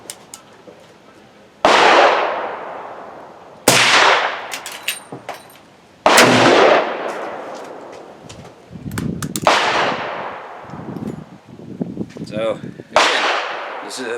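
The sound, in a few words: gunshot from a Thompson Center Contender in .35 Remington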